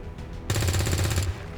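A single burst of rapid gunfire aimed at an Advent Trooper in the video game XCOM 2, sharp and loud, lasting under a second against a quiet game background.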